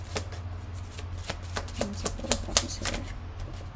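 Tarot cards being shuffled by hand at close range, a run of crisp, irregular riffling flicks and taps over a low steady hum, no voices.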